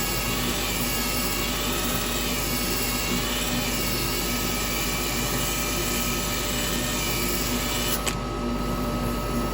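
An electric drill sander whines at a steady high pitch on a purpleheart wooden bowl, running continuously and loud up close, then its tone shifts abruptly near the end.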